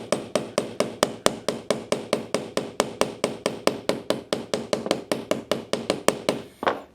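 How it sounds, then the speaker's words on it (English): A ball peen hammer lightly shapes a copper rivet on leather, striking in a steady, rapid series of about thirty even, sharp taps, close and clear without talk. "You can take a ball peen hammer then at that point and just real lightly shape that."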